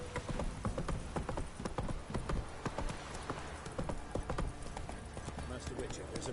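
Roach the horse trots in The Witcher 3, her hooves clip-clopping in a quick, steady rhythm close by, mixed with game ambience and a voice speaking over the hoofbeats.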